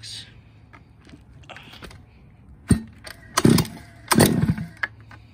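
Zenoah G320RC engine on a Goped Sport being pull-started with the choke on, heard as several sharp, brief pull-cord rasps and sputtering bursts close by, with faint talking between the pulls.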